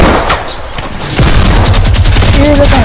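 Gunfire in the video game Fortnite, a dense burst of rapid shots and fusillade-like rattling that builds to a loud, sustained barrage, with voices of players talking over the action.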